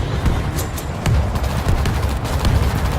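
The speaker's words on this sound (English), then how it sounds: "Grenade out!" Grenade blast and gunfire in the World War Z video game, with loud, dense, rapid bursts of shots and booming impacts forming a continuous chaotic barrage.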